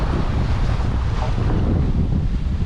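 Wind roars steadily over the sea around a solo sailboat crossing the Atlantic, with broadband wave and water rush buffeting the microphone throughout, loud and continuous with no speech.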